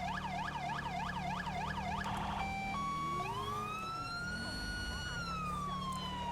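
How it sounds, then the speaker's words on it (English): A police siren from GTA 5 with the LSPDFR mod wails in fast yelping cycles, then switches to a piercing steady tone and slow rising-and-falling wails, loud and continuous over a low engine drone. "I do know that this siren is really freaking annoying"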